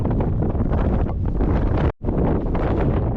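Strong wind roars and buffets the microphone continuously, a loud broadband rush with one brief drop near the middle.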